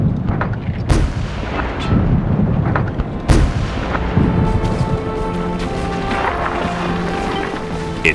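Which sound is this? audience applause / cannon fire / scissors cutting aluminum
cannon fire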